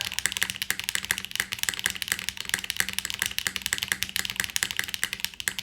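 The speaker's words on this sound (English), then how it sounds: "Let's see what the GMK spacebar sounds like." Rapid, continuous clacking of keys on a DR-70F mechanical keyboard fitted with GMK keycaps and foam, as repeated spacebar presses in a fast, even rhythm, close and clear.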